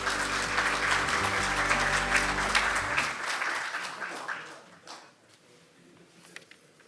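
At the 2022 Science and Technology Day event at the National Assembly, an audience greets the Speaker, Kim Jin-pyo, with loud, sustained hall applause under a ringing tone, fading out after about four seconds into quiet room noise.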